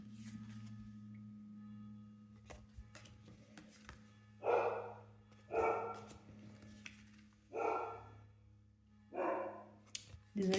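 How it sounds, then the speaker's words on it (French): A dog barks in four separate bursts, a few seconds apart, fairly close, over a steady low hum and faint background noise. "Désolée pour les aboiements de Frida, comme d'hab."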